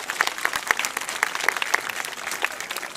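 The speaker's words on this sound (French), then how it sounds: "je pense qu'on peut l'applaudir." Audience applauding during an aquatic bird show, a full, steady burst of clapping from a sizable crowd with some sharper nearby claps standing out.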